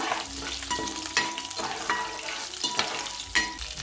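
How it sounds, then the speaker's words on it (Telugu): Garlic and cumin fry in hot oil as a spoon stirs them around the pan, a dense sizzle broken by several scraping, clinking strokes, close and unaccompanied by speech. "ఇప్పుడు ఈ వెల్లుల్లి కూడా వేసుకోవాలి అలాగే జీలకర్ర బాగా కలపాలి"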